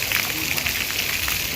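An elephant-shaped fountain at Saheliyon Ki Bari, Udaipur, sends water from a pipe out through its trunk, giving a steady splashing rush like rain on a surface, constant and fairly close.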